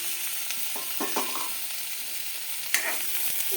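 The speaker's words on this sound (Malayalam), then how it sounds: "ഇനി നമുക്ക് തക്കാളി ഇട്ട് കൊടുക്കാം" Tomatoes tipped into a hot pan and frying, a steady broadband sizzle with a few scraping stir strokes and a sharper clatter near the end, fairly close and with no one talking.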